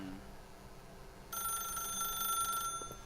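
A telephone rings in The Stanley Parable video game, a single electronic ring burst starting partway through and holding for about a second over quiet background hiss.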